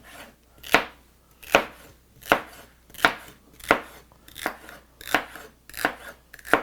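Freshly sharpened knife slicing through tomatoes onto a cutting board, eight evenly spaced crisp chopping taps, close and clear over near silence.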